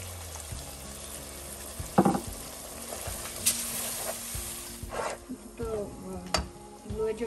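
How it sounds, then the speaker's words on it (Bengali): Spice paste and homemade yogurt sautéing in oil for Old Dhaka tehari, a low sizzle with bursts of spoon scraping and stirring, close and intermittent, no talking. "মশলাটাকে ভালো করে একটু কষায় নিতে হবে। এই দইটা দিয়ে দিলাম, বানিয়ে রাখা দইটা।"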